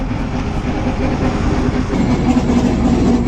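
An armored personnel carrier's 14.8-litre V8 engine drones loudly and steadily with a rattling, clattering undertone, close and continuous.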